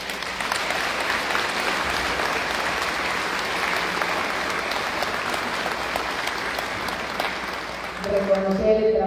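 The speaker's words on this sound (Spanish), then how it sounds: "quiero que les dediquemos un aplauso" An audience at a public aid-distribution ceremony gives sustained applause: a thick, even wash of many hands clapping for about eight seconds, before a voice begins speaking over the tail end.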